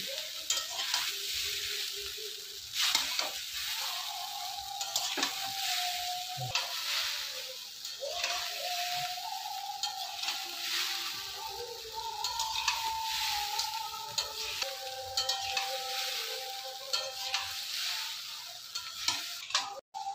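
Chow mein being stir-fried with spices in a pan, a steady close sizzle and frying hiss with scraping stirring strokes running throughout, no voices.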